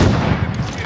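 In-game strike firing in Call of Duty Modern Warfare: a loud, dense burst of booming gunfire with a heavy low rumble, continuous and close for under a second.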